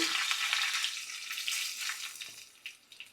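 Dried red chillies fry in hot oil, giving a continuous close, loud hiss and crackle with brief pops toward the end and no talking.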